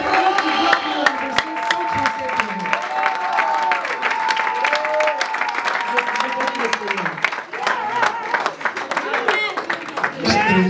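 A church congregation at a New Year's Eve service breaks into sustained, dense applause, with many hands clapping loudly and continuously throughout, some scattered cheers and voices mixed in.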